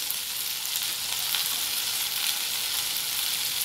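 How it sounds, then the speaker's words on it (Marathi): Steady, close sizzling of a raw mango methamba sautéing in hot oil with turmeric, chili powder and salt, an even dense hiss running throughout with no voices. "सर्व चांगलं परतून घ्यायचं आहे"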